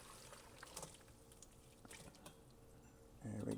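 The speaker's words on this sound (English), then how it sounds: "we're going to go ahead and pour this stock through a sifter here so we can just reserve the liquid" Turkey stock pours through a sifter, with faint trickling and dripping liquid, then a louder, steadier splash near the end.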